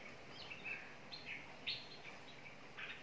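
Small birds chirp in short, scattered bursts of high tweets at moderate distance in Munnar, faint against quiet outdoor background.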